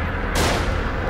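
A single loud gunshot cracks at a shooting range in The Evil Within, sharp and close, with a rumbling echo trailing off into a dense background.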